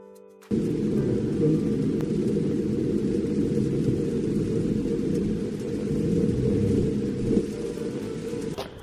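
A sudden torrential downpour hammers down in a city during a thunderstorm, a dense, loud, steady roar of heavy rain that starts abruptly and holds at full intensity, with low rumbling underneath and no voices.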